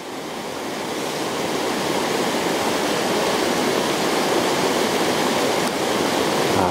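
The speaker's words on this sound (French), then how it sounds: "Ah, cette bonne eau qui vient des glaciers." Loud, continuous rush of glacial meltwater flowing nearby in a very wet, bridgeless landscape, a steady broadband roar building slightly and holding without voices.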